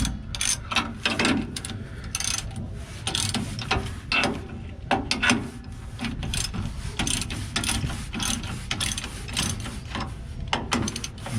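Ratchet wrench with a 3/4 socket loosening the U-bolts on a Toyota pickup's leaf spring, a steady run of close, rapid clicking strokes with brief pauses between bursts.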